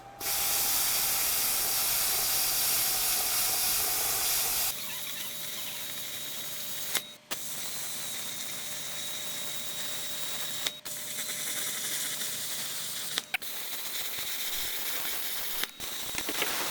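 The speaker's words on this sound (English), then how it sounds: "I've got this gusset plate welded in, mostly welded in." Welding a steel gusset plate onto the frame of a 1955 Buick: a loud, steady hiss for about five seconds, then a quieter continuous crackling hiss broken by a few sharp clicks, with no talk.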